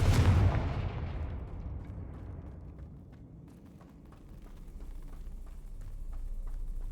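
In Hogwarts Legacy, the Confringo explosive spell goes off with a loud boom right at the start, then rumbles and fades into a long quieter tail over low game ambience.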